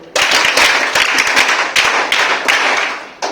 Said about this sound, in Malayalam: എന്നാൽ നല്ലൊരു NSS ക്ലാപ്പ് അടിച്ചോളൂ